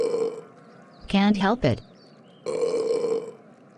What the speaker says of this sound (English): Why are you burping so much?